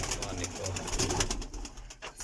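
Parwazi pigeons coo in a loft, a steady low murmuring of several birds close by, blending with faint background voices and rustle.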